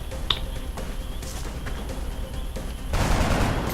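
A soldier fires a single shot at a sectoid in XCOM, a sharp crack early on, with a denser burst of gunfire noise swelling near the end over steady game ambience.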